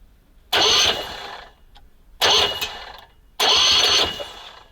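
An SMZ invalid carriage's small engine cranking three times after a long idle, each a loud, close, raspy churning burst of about a second with quiet gaps between, and no voices.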